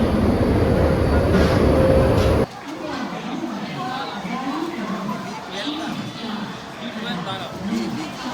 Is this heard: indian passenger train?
yes